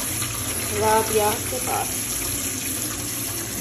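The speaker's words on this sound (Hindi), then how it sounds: "यहाँ पे मैं खजूर साफ करिए धो रही हूँ" Tap water runs into a sink while dates are washed by hand, a steady close splashing flow with someone speaking briefly over it.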